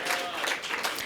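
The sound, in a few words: audience applause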